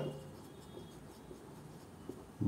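A pen or chalk writes on a board during a physics lesson, giving faint, soft scratching against quiet room noise, with a louder knock at the end.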